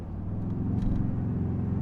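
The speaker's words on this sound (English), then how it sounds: "What I don't love is that fake engine noise" Synthetic engine sound piped into the cabin of a 2022 Toyota Tundra pickup, a steady, even low drone with a faint rumble that holds constant throughout, with no voices.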